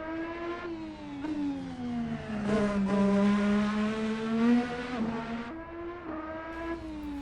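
A Formula-style race car engine in a racing simulator game, loud and close as it revs up and down, the pitch rising and falling through gear changes as the car drives past, with no talk.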